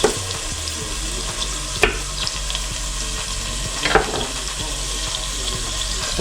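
Roast beef searing in an Instant Pot, a steady loud sizzle and crackle running throughout, with a low hum beneath and a couple of sharp clanks from the utensil turning the meat.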